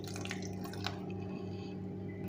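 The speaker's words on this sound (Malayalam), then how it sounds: "ഒരുപാട് വെള്ളം ഒഴിക്കണ്ട, ഇത് അരയാൻ വേണ്ടി മാത്രമുള്ള വെള്ളം ഒഴിച്ചാൽ മതി." Water trickles and splashes briefly into a grinder jar holding beetroot for a pachadi paste, a soft close pour over a low steady hum.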